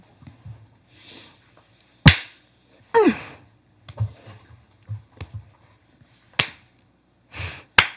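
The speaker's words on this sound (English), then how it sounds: "Now we're just clapping." A handful of sharp, isolated hand claps at irregular intervals, separated by quiet gaps and faint rustling.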